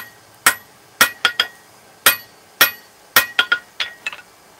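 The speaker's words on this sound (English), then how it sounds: "Just hammer control and learn how to use your hammer." Hammer blows on hot metal while forging grill tools, a spoon taking shape: sharp ringing clinks landing singly and in quick clusters of two or three, loud and close with quiet gaps between strikes.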